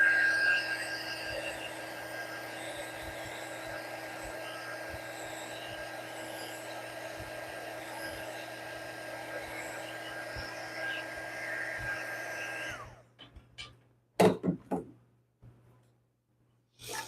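A hair dryer blows steadily on freshly painted apple garland for about twelve seconds, then cuts off, followed by a few sharp clicks and knocks in near silence.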